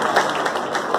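A brief burst of audience clapping at an Independence Day function, welcoming a speaker, heard as a short, dense patter of hands.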